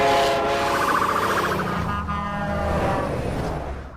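A train passes close by with a loud rumbling roar and a sustained horn-like tone whose pitch drops as it goes past, then fades slightly.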